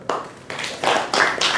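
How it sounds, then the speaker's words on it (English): A lecture hall audience claps in a few short, uneven bursts of applause, close and moderately loud. "You all should clap for her"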